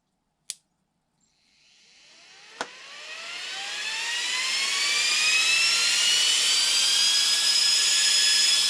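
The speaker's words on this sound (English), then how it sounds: "Now these ones were more of like a soft start style of fan. You can hear the slow spool up of these fans." A soft-start RC fan spools up slowly after two sharp clicks, its whine climbing gradually in pitch and loudness into a steady, loud jet-like whir.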